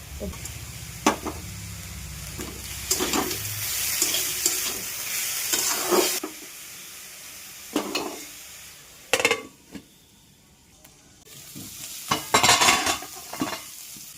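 Bathua greens with turmeric and salt stir-fried in a pan alongside fried eggplant and fried lentil dumplings, a soft sizzle under intermittent scraping and clinking of a spoon, with quiet pauses between strokes.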